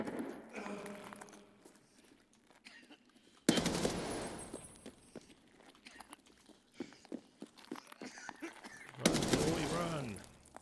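Gunfire at an enemy player in a multiplayer survival shooter, with bursts of shots and louder impact cracks among footsteps and clatter, a dense loud burst near the middle and another near the end.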